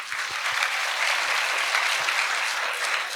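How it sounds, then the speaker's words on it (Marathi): Sustained applause from an audience at a kindergarten annual gathering, dense steady clapping filling the room at an even level throughout, with no voices rising above it. "एकदा आपण सगळ्या पालकांसाठी टाळ्या वाजवूया"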